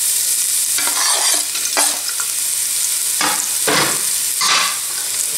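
Chopped shallot frying in olive oil in a pot, a steady, close hiss of sizzling broken by several louder bursts as it is stirred, with no talking.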